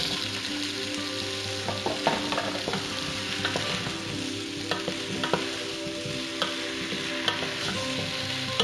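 Carrots and potatoes stir-frying in a hot pan for Chinese-style beef curry, a steady close sizzle broken by repeated scrapes and clacks of a spatula stirring the vegetables.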